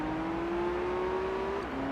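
Nissan 400R race car engine on an oval track in Gran Turismo 3, a steady high-pitched engine drone holding one pitch at speed, then briefly dropping as it shifts, with no talk.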